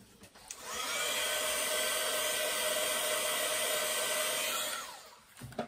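A hair dryer blows on freshly painted flowers on a wall tag, a close, loud steady whoosh that switches on after a click, holds for about four seconds, then winds down, with small handling knocks at either end.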